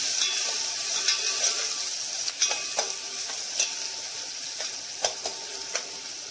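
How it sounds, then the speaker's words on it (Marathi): Onion and garlic sizzle steadily in a pan while being stirred, with a continuous frying hiss and repeated spoon scrapes and clicks at an even pace. No one speaks over it. "आता आपण कांदा टाकत आहोत कांदा थोडा नरम होऊन द्यायचा आहे लसूण टाकलेला आहे मिक्स करून घ्यायचं"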